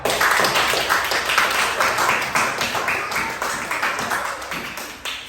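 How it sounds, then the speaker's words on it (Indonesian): Audience clapping in a classroom, a close, loud run of rhythmic claps from a small group that holds steady and tapers off near the end. "Beri tepuk tangan buat mereka."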